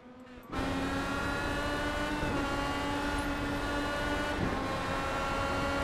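IndyCar race cars in a video game at Interlagos run side by side, a loud, steady engine drone holding a constant pitch throughout, with no voices.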